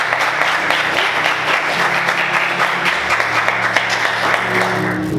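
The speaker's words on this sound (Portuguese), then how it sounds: "Você pode aplaudir Jesus bem forte" Strong, continuous clapping fills a church as the congregation applauds, thick and even from start to finish, with a low sustained musical tone underneath.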